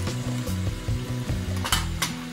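Dried red chillies with chana dal and urad dal sizzle steadily in hot oil for tempering a tomato pickle, a close, continuous crackling fry with a few faint stirring and pan clinks, no talking.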